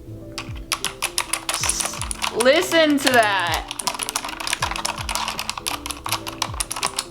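Someone types on a Razer BlackWidow V3 Quartz mechanical keyboard, producing a close, rapid stream of clacky keystrokes, with a short bit of speech partway through.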